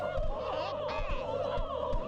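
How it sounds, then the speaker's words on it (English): Several turkeys in the N64 South Park video game gobble in quick, overlapping warbling bursts over a constant game drone, loud and close throughout. "Oh, too many turkeys."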